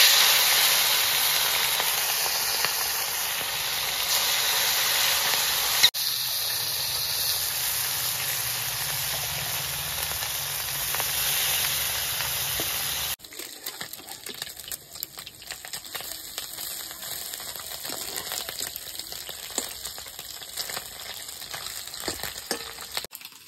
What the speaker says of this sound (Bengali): কড়াই গরম হয়ে গেছে, এবার মাছগুলো আমি ভেজে নিচ্ছি।